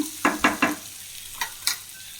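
A spoon stirs a mashed potato mixture in a frying pan, making a few brief scraping strokes close by against a quiet background.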